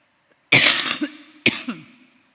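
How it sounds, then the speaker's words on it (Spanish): Two harsh coughs from a speaker with a cold during a conference talk, close and loud, about a second apart, each trailing off into a brief throat rasp. "Perdón que tengo tos del frío que hacía anoche."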